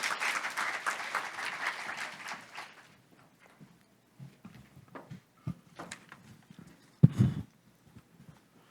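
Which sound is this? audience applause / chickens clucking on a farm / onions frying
audience applause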